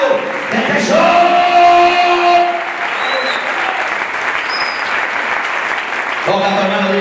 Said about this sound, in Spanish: ¿Cuánto le aplaude fuerte a los que están enamorados de Jesús?